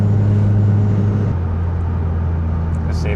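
Mazda RX-8 rotary engine idling during tuning, a steady, close, low droning hum whose pitch drops slightly partway through, running on alone.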